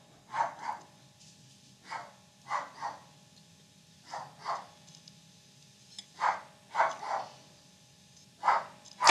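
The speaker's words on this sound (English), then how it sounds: "I need to see what this dog's bloody barking at" Steady, rhythmic dog barking in doubled bursts, roughly every second or two, over a faint background hum; the dog sounds moderately close.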